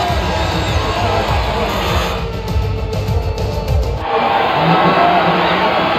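A large crowd at the F1 25 podium at the São Paulo Grand Prix cheers and shouts loudly and without a break. The roar thins for a moment midway, then swells again.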